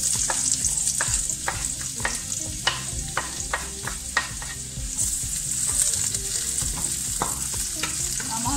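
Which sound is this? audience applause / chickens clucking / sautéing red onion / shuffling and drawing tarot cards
sautéing red onion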